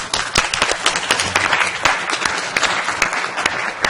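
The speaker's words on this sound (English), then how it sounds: "Let's give him a round of applause." An audience applauds an award recipient, a student named school ambassador, with steady, dense clapping from many hands, fairly close and sustained for several seconds with no talk over it.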